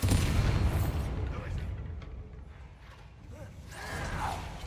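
A Bombarda blasting spell in Hogwarts Legacy goes off with a loud, rumbling burst at the start, then a rough, crackling tail that slowly fades and swells again.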